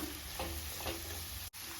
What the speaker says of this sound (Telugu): వేసి ఫ్రై చేస్తా.